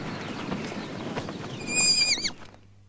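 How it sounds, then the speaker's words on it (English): A miniature horse, one of the smallest breeds, stamps its hooves in a soft, steady clatter outdoors, then lets out a loud, shrill whinny that trails off into silence. "He's one of the smallest horses in the world, about the size of a big shaggy dog."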